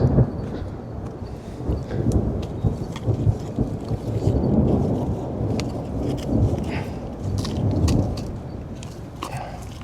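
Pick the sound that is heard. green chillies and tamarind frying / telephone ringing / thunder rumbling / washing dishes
thunder rumbling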